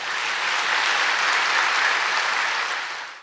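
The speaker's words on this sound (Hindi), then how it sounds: "अपने भाग्य की ताली बजाए" An audience clapping together at a spiritual discourse gathering, a dense, even burst of applause that swells slightly in the middle and fades at the end.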